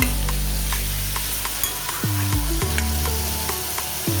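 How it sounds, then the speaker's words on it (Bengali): Half-fried potatoes sizzle steadily in a pan for a turmeric-free fasting-day curry, close and continuous, with occasional stirring scrapes and clinks and no talk. "আলু আধ ভাজা হয়ে এসেছে"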